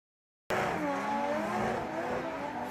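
A JZA80 Toyota Supra drift car at a Formula Drift Japan round bursts in abruptly with engine roar and wavering tire squeal, loud and sustained, with no voices over it.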